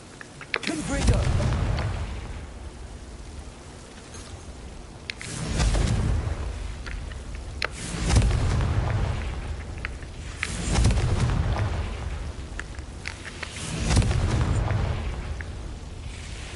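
Repeated Confringo blasting spells in Hogwarts Legacy, a series of heavy booming explosions arriving every couple of seconds, each a sharp burst trailing into a rumbling decay.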